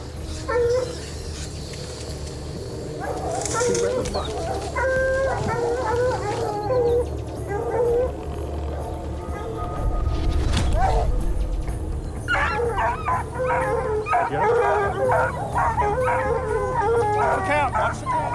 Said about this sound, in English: Watch the dog.